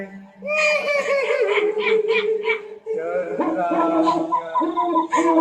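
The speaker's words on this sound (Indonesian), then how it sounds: "Ringtone kuntilanak menangis." A horror-style kuntilanak ghost ringtone from Lampung: a wavering, high, wailing voice that sounds like crying and laughter, loud and continuous for several seconds with short breaks.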